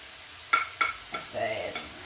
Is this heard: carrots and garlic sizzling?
yes